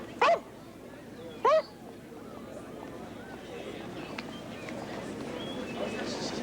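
A man imitates a dog with two short, sharp barks close to the microphone, followed by a low murmur of background room noise.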